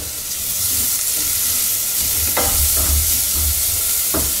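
Onion, jalapeno, garlic and fresh ginger sizzle steadily in a hot pan, a continuous loud frying hiss broken by a few scraping stirs.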